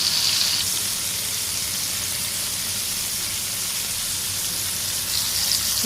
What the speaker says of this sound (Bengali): এভাবে করে আমি ভেজে নেব